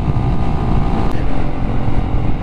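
Strong crosswind buffeting the microphone while riding a motorcycle on an Argentine highway, a steady loud roar of wind and engine rumble throughout, no talking.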